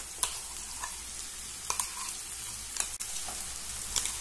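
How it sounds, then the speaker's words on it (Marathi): Bottle gourd and peanut paste sauté on a low flame in a pan, a steady sizzle broken by sharp, regularly spaced scrapes and taps of a spoon stirring the mixture. "आता मंद गैस वर हे वाटण देखील आपल्याला 2 ते 3 मिनिट या भोपळ्यासोबत परतवून घ्यायचं आहे।"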